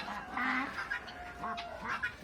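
Female duck quacking in a series of loud, close, raspy calls, a few in quick succession, with no talk over them.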